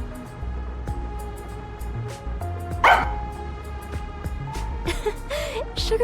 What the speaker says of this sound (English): She barks at me all the time.